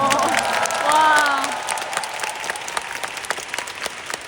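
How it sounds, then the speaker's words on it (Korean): Concert audience applauds steadily at a show in Songdo, a dense wash of clapping with a few cheers near the start that holds loud and then eases slightly toward the end. "놀이기구를 운행해주시는 분들에게도 박수 한 번 부탁드립니다"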